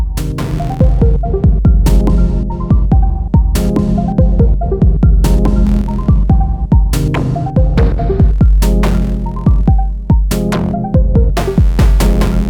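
A ModBap Per4mer synthesizer plays a pulsing sequenced pattern of notes with sharp attacks and washes of sequenced reverb that swell and cut in rhythm, loud and alone.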